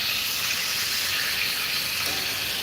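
A steak sizzles in a hot pan after being flipped, giving a steady, dense hiss that stays even and fairly loud throughout with no voices.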